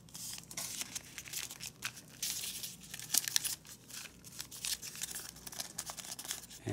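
Origami paper for a gauntlet's hand and wrist armor being folded and pressed flat, a quiet, continuous crinkling with scattered sharper crackles and rustles, close up and with no voices.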